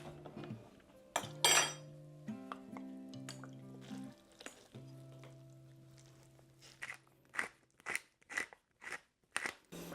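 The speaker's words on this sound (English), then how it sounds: "I managed to mix up everything without using my hands." Vietnamese egg roll filling mixed in a bowl with a utensil, giving a string of sharp clinks and wet scraping taps that grow more regular toward the end, with a low tonal hum early on and no voices.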